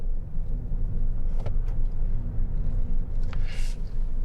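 A BYD Dolphin Surf's engine sound rumbles steadily from inside the cabin while accelerating around a roundabout, a low continuous drone with faint clicks and road noise, no voices.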